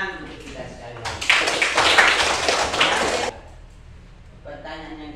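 A classroom of students claps together in a sudden, dense burst lasting about two seconds, then it cuts off to a quiet room before voices resume.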